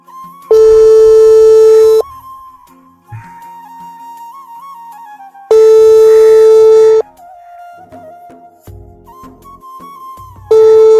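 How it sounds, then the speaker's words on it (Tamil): An outgoing phone call rings unanswered: loud, steady ringback tones repeat three times, each lasting about a second and a half. Long quieter gaps separate the rings, with faint tones in between. "அப்போ அவைக்கு எடுத்து பார்ப்போம் ரிங் போவும் ஆனால் தூக்க மாட்டாவு"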